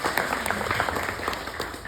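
Audience applause at a public event on local food economies, a dense, steady wash of many hands clapping heard from some distance, moderately soft, with faint voices mixed in.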